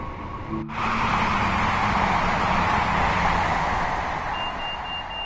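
A ScotRail BR Class 158 train roars past at high speed in Train Sim World 4, a sudden onset swelling into loud, sustained broadband rumble and rush that holds steady for several seconds with no talk.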